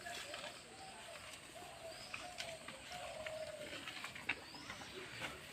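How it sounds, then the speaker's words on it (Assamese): Birds calling in a quiet village on a morning with cattle grazing nearby; pigeon- or dove-like coos and faint chirps sound at a moderate distance over a soft outdoor hiss. "শুনাই পাব যে কি ধুনীয়া সুৰীয়া চৰাইৰ মাত।"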